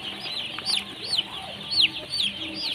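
Chicks cheep and peep in a steady chorus close by in a heated brooder with blowers running, with several louder chirps rising above it and a low hum underneath.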